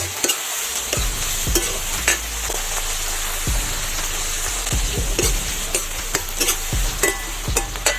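Tomato pieces fry in a chicken masala pan with a steady, close sizzle, while a utensil stirs through the mix in repeated scraping knocks roughly every half second.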